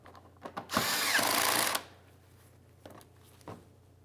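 A power tool tightens a 10mm-headed mounting screw on the front bumper cover of a 2003-2007 Honda Accord in one short whirring burst of about a second, with faint clicks and handling noises before and after.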